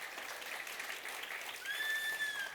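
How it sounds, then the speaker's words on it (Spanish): A congregation in church keeps clapping for the Lord, a soft continuous patter of many hands that swells slightly toward the end, joined by thin whistle-like tones. "Dele un aplauso al Señor."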